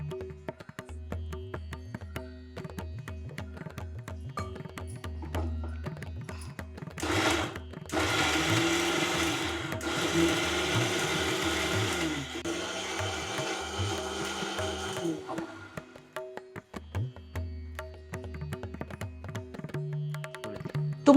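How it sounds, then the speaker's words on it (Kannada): A kitchen mixer grinder whirs in loud bursts as it grinds coconut, cinnamon, cloves, spices and green chilli with water into a coarse paste, the motor starting, stopping and restarting in several long pulses, with no talking. "ಈಗ ಇದೇ ನೀರನ್ನ ಹಾಕ್ಕೊಂಡು ಮಿಕ್ಸಿ ಮಾಡ್ಕೋತೀನಿ"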